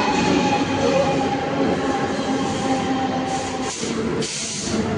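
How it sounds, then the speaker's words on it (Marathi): A crowded Mumbai-area local train pulls into a station with a loud, continuous rumble of wheels and carriages, a brief squeal near the end, and no voices. "त्यानंतर आपली ट्रेन आता आली एक्झॅक्ट."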